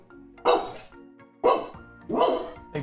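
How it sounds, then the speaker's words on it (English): A dog named Groot barks in the background indoors: three loud, separate barks spaced about a second apart, each with a short tonal tail, over a quiet electronic hum. "Ignore the dog barking in the background."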